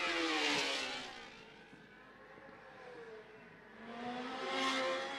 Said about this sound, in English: About half a dozen bikes go past my commentary position here at Macau.